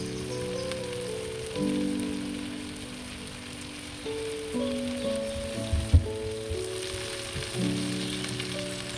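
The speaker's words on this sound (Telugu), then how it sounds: "అప్పుడే లెగ్ పీసెస్ ఈ బటర్, గార్లిక్, పెరుగు ఇదంతా పట్టి జ్యూసీగా మంచిగా ఉడుకుతుందండి" Chicken drumsticks fry in butter, garlic and yogurt on a tawa with a continuous loud sizzle and bubbling crackle, plus a low thump partway through.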